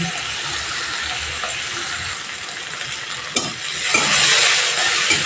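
Chopped onions sizzling in hot oil, a dense crackling hiss that swells louder toward the end as they fry.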